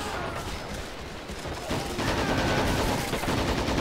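Soldiers trading fire in Men of War Assault Squad 2, a steady rattle of rifle and machine-gun shots that thickens midway, loud and dense throughout.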